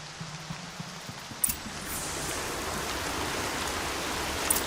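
Steady rainfall in the video game Horizon Zero Dawn, a constant broadband hiss of rain with a couple of faint soft knocks early on, heard alone.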